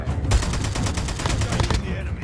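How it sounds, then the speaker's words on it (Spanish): Rapid bursts of automatic rifle fire from an AK-47 in a first-person shooter game, a steady rattling volley lasting about a second and a half, loud and close. "se oyen disparos no muy lejos"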